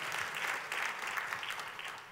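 Congregation at a church service clapping together in steady, moderately loud applause for about two seconds, with no voices standing out.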